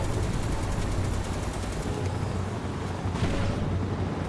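Dense, continuous in-game gunfire from Final Fantasy VII Rebirth, a steady rattling barrage of bullets that holds at a constant loud level across the whole stretch, with a brief swell near the end.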